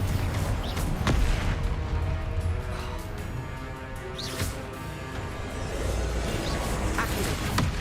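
Confringo fire-spell blasts in Hogwarts Legacy boom and crackle in bursts over a dense, rumbling battle soundscape, loud and close. A sharp hit lands near the one-second mark and another just after four seconds.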